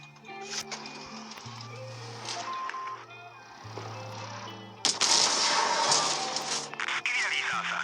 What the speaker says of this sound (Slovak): Shardian môže strieľať rakety